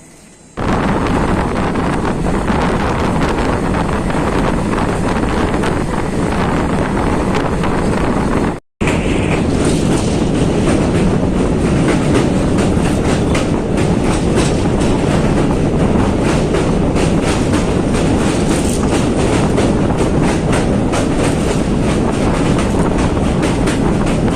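Steady rumbling roar of the Lachit Express passenger train running on rails near Gogamukh, Assam, loud and continuous with wind buffeting the microphone, briefly cutting out once before resuming.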